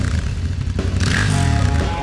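A motorcycle ridden through desert mountains gives a loud, close engine drone with shifting pitch, wind and road noise mixed in over a short stretch.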